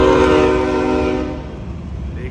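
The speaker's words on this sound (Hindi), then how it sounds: "वो जा रही है ट्रेन।" A train rolls past a railway track behind a parked truck, its horn sounding loudly with steady harmonic blasts for over a second before fading into rumbling rail noise.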